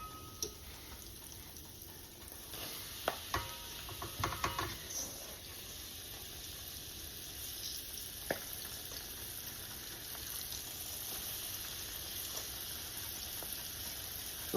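A batch of battered onion petals fries in oil in a skillet, giving a soft, steady sizzle dotted with small crackles and pops, quiet and close, with no voices.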